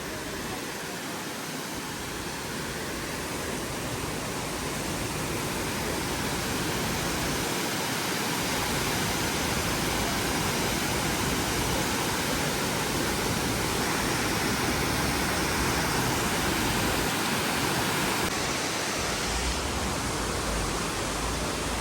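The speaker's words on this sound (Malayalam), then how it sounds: "ചർപ്പ വാട്ടർഫാൾസ് ആണ്." Charpa waterfall near Athirapally in the Vazhachal forest division, a steady broadband rush of falling water that stays loud and unbroken throughout, with no voices.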